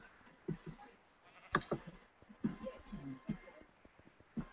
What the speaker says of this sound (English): There's a sheep in this room.